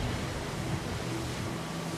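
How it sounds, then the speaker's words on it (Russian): Stormy sea waves pound a small ship in a steady, dense roar of surf and wind, loud and continuous with no distinct individual impacts or voices. "Волны били небольшое судно с такой силой, что трещали мачты."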